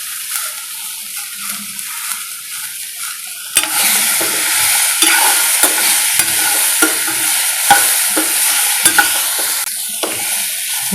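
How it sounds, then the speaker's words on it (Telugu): Cumin seeds and pieces of ginger fry in hot oil in a pan for a millet dosa chutney. After a quiet start, a loud close sizzle bursts in and keeps going, with spoon stirring scrapes on top. "ఒక టీ స్పూన్ జీలకర్ర, ఇవన్నీ మంచిగా వేగే వరకు వేసేయాలి. కొంచెం అల్లం ముక్క కూడా వేయాలి."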